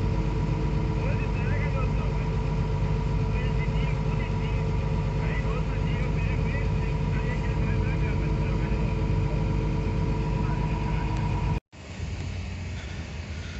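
A tractor engine runs during sugarcane harvest while the load is leveled, giving a loud, steady mechanical drone throughout that cuts off abruptly near the end and returns with a brief, lower-level hum.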